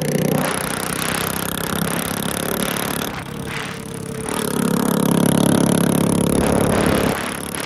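A motorcycle with a modified silencer exhaust rides along, its engine droning steadily and loudly with a brief dip in the middle before rising again, close and continuous.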